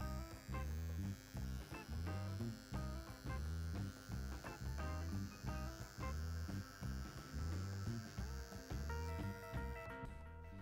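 A Parkside PGG 15 G6 engraver buzzes steadily close by for about nine seconds, its electric hum pulsing in a fast regular rhythm as it engraves wood at maximum setting, with no talking.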